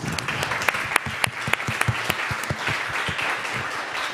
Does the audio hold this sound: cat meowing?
no